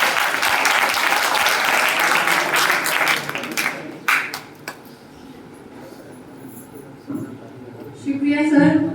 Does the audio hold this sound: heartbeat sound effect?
no